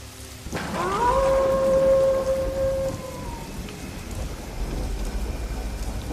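Heavy rain pours steadily while a long, wavering howl rises early on and fades away, leaving the downpour to continue alone.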